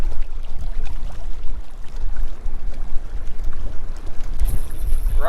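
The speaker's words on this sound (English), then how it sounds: "She's a windy one." Strong wind gusting across a lake bank while bank fishing for crappie, a loud continuous rumbling roar buffeting the microphone throughout, with brief louder gusts near the end.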